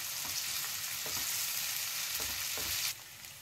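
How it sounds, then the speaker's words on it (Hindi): Onion, dry red chillies, ginger and garlic sizzle in a pan with a continuous hiss, broken by several soft scraping stir strokes; the frying drops slightly in level near the end, and no one speaks. "इनको भी हम प्याज के साथ ही भून लेंगे"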